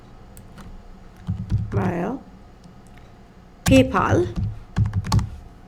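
Python code typed on a computer keyboard, with bursts of quick, close key clicks between stretches of someone talking.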